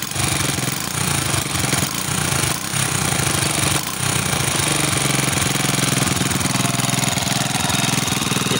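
A small motorcycle engine, one that had a faulty spark plug that kept dying, runs steadily and loudly close by, with a continuous rough idle throughout and no voices.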